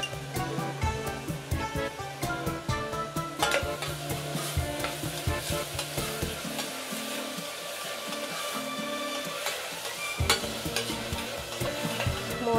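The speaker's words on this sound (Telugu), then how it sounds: "ఇవి గోల్డెన్ షేడ్ వచ్చే వరకు వేయించుకోవాలి." Onions frying in a pan for mutton curry, a loud steady sizzle under repeated scraping and stirring strokes of a spoon against the pan, close up and without voices.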